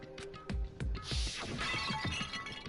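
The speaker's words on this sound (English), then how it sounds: "I grabbed the Monokuma bottle from the shelf and smashed it across her head" Bottle smashing in the Danganronpa video game, a Monokuma bottle shattering with a loud crash followed by scattered tinkling glass shards over nearly three seconds.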